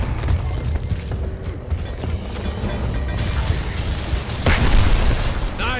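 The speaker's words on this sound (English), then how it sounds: "Get a frag in there!" A frag grenade goes off in Gears of War on Insane difficulty, thrown into an enemy grub hole: a dense, roaring blast and rumble that holds loud throughout, with crashing debris and a sharper burst near the end.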